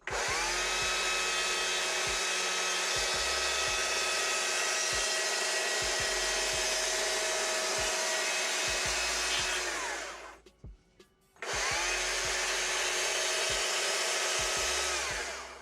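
A chainsaw carving a wooden sunflower holds a loud, close, steady whine with rhythmic bogging as it cuts, stops briefly, then revs back up at full pitch.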